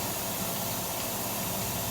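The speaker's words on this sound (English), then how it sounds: "We got any grease on the rotor, spray it all down with some brake cleaner." Brake cleaner hisses from an aerosol can onto the front brake rotor of a 2009-2017 Dodge Journey, a steady, faint spray with no break.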